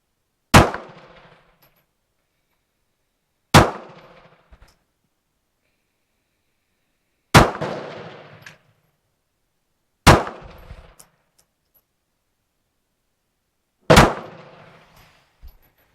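Five single 9mm pistol shots with Turkish BPS Luger ammunition ring out outdoors, spaced a few seconds apart. Each crack is sharp and loud with a short decay, followed by faint clinks of brass landing.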